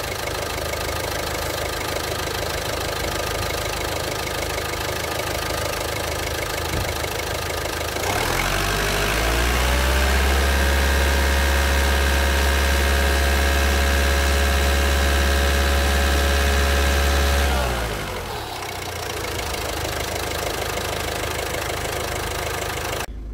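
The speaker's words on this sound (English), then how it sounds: "So I'm gonna rev and keep it at 2000 revs just for a minute" Car engine revved up from idle and held steady at about 2000 rpm during a mass airflow sensor test, a loud sustained hum lasting around ten seconds before dropping back to a quieter idle.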